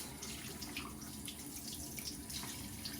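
Tap water runs steadily into a sink while makeup brushes are rinsed under it, making a close, continuous hiss and splash.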